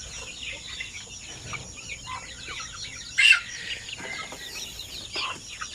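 Chickens on a Philippine poultry farm, kept for nationwide shipping, cluck and call softly through the whole stretch, with one louder squawk near the middle.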